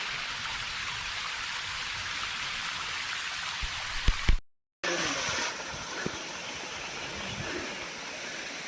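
Heavy rain pours steadily on a hilltop near Paloorkotta in Malappuram, a dense continuous hiss with a brief cutout midway, no one speaking.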